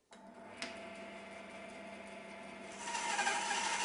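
Bandsaw running steadily while cutting a tenon in timber, with a constant close motor hum and blade whine that grows louder and harsher toward the end as the cut works through the wood.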